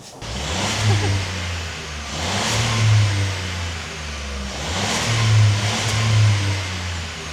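VW Up GTI 3-cylinder engine on its stock exhaust revving from idle, three rising and falling revs in a row, close and fairly loud with a thrummy low note.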